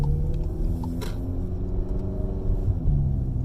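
A car on Firestone Indy 500 tires drives in second gear at about 22 mph and 2,500 rpm, giving a low, steady engine rumble and road drone close by, with a faint clunk near the start.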